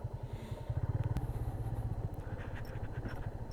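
A motorbike rides over a bumpy off-road jungle track near Mawna and Kaliakoir, its engine chugging in a steady near pulse with clatter from the bumps.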